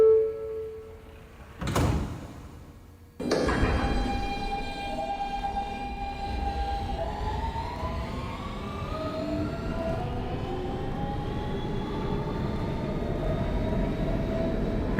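A Brooklyn-bound F local train on the New York subway gives a short door chime, then two loud thuds as its doors slam shut, followed by a rising electric motor whine and steady rumble as it pulls away.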